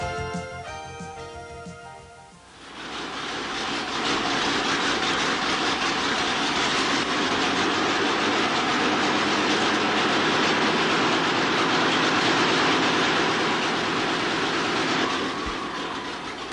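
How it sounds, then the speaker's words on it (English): A 12-cylinder Dynacam revolver cam engine runs with a loud, steady, continuous roar after a brief, quieter tonal start. "Let's take a moment and listen to the Dynacam engine."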